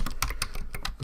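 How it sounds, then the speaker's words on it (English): Quick, close-up typing on a computer keyboard while entering a variable name in a robot programming tool, a handful of crisp key clicks at an uneven pace with no voices. "and then I just type in the name"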